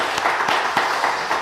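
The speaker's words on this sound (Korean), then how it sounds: "하나님께 영광의 박수 올리겠습니다." Congregation applauding in praise to God during a Sunday church service, a short burst of steady clapping from many hands with a few sharper claps standing out.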